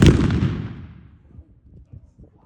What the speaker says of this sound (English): That's just a rifle musket.